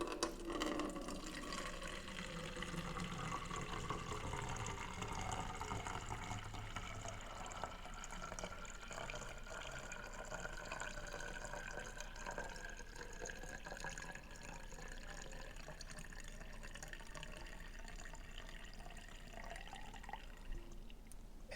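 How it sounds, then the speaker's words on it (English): Buttermilk from butter making is poured back into a jug on a kitchen counter, a soft continuous trickling and gurgling pour that keeps up steadily with faint drips. "we're going to pour back in all of the buttermilk into it"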